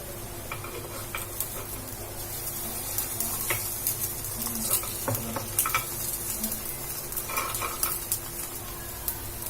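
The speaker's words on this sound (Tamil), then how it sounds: "நம்ம இப்ப அடுப்பை மீடியமா வச்சுட்டு 2 சைடும் வேக வச்சு எடுத்துக்கலாம்" A semiya (vermicelli) breakfast snack fries in a pan over medium heat, giving a steady close sizzle with scattered light crackles and ticks throughout, and no voices.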